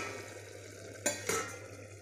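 A metal lid lifted off a cooking pot that has simmered covered on low gas with ridge gourd, a pair of brief clanks about a quarter second apart, close by, over a steady low kitchen hum.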